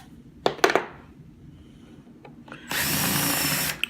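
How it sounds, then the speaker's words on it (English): Several quick metallic taps, then a close power drill spins up and grinds continuously for about a second before stopping abruptly, drilling out screws on a Waterous foam system control box. "Drill out all the screws on both sides."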